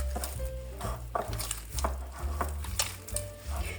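Spiced mince is stirred and worked together with ginger-garlic paste, giving a close, steady run of wet squelching and scraping with soft sizzle-like hiss and occasional knocks against the pan or bowl.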